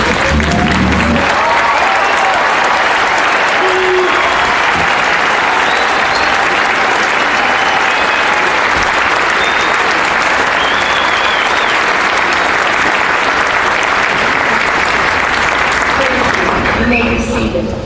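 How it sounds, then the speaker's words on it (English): Long, loud, sustained applause from a large crowd honoring graduates at a 2019 high school graduation ceremony, broad steady clapping filling the space with a few voices mixed in before it tapers near the end. "Graduates, please stand and accept our applause."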